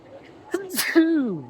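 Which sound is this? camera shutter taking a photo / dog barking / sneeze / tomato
sneeze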